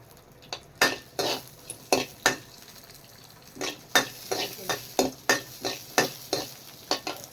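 Rice, chana dal, green chillies and cumin being dry-roasted in a pan for grinding: a spatula scrapes and clinks against the metal in a steady series of sharp strokes over a low sizzle, close and fairly loud, with no talk.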